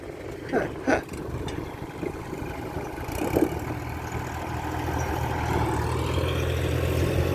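A tractor engine idles on a farm, a steady low rumbling drone that settles in after a few brief knocks and thuds near the start, continuing unbroken and fairly close.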